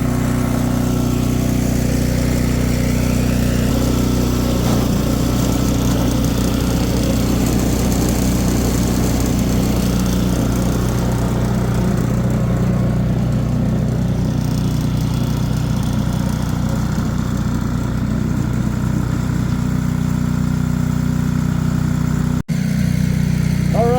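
A small gasoline engine on a fairly new machine idles steadily and loudly for the whole stretch, a constant low rumbling drone with no pauses and no talk over it.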